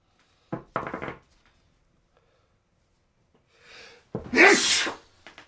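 A short snort or catch of breath, then a pause, a quick inhale, and a single loud sneeze, close and clear.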